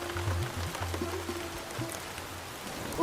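Rain falls steadily on surfaces around a home, a soft even patter with a low droning hum underneath and no voices.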